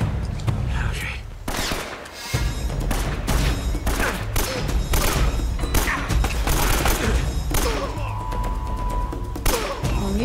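Sustained exchange of gunfire in the video game Uncharted: Drake's Fortune, with loud overlapping shots and thuds throughout and a player talking over the combat.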